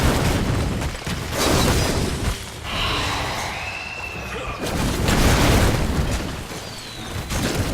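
Repeated booming explosions in the Heroes of the Storm video game, loud bursts in waves with a brief lull in the middle, over dense battle effects.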